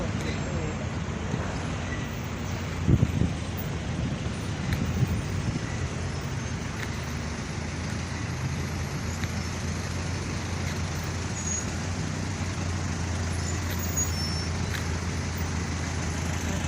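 Congested roadway traffic on the evening before Loy Krathong, a steady low rumble of buses, cars and trucks idling and creeping along, with an air brake hiss and a person talking over it.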